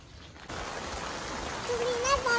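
Steady rain sets in with a soft, even hiss that continues to the end, with a faint thin whistle-like tone near the close.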